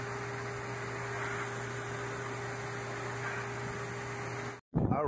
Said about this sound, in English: Standing next to a vacuum cleaner right now, and I can hear it